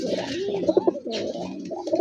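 A Chap Chila pigeon coos in soft, rolling phrases, close and clear, with no voices.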